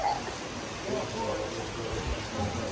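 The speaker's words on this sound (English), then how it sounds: "it's raining so bad." Heavy rain pours steadily outdoors during the Hungarian Grand Prix weekend in Budapest, a continuous hiss heard close by while people talk over it.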